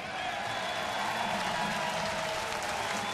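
Applause from a spring-training baseball crowd at a Toronto–Philadelphia game, greeting Jim Thome as he comes to the plate; a steady, broad wash of clapping and crowd noise fills the whole stretch without a break.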